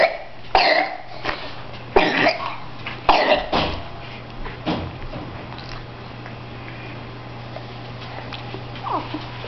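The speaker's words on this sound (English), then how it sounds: "That darn cough, huh?" A person coughs several times, three harsh bursts spaced about a second apart followed by fainter ones, close by and indoors over a steady low hum.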